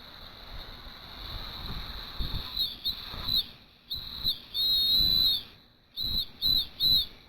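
Shrill high whistle on a Weeden toy steam boiler, driven by air, sounding in several short bursts, then longer blasts, with hissing air and handling noises between.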